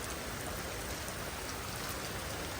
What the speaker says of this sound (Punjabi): ਚੱਲੇ ਸੀਗੇ ਨਾਲ ਦੀ ਨਾਲ ਮੀਂਹ ਸਟਾਰਟ ਹੋ ਗਿਆ